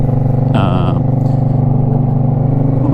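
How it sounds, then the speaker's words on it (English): The custom loud exhaust on an Indian Scout Bobber motorcycle throbs close by at a deep, pulsing idle, with a brief sharper rap partway through, steady and loud throughout. "The exhaust is mean and loud."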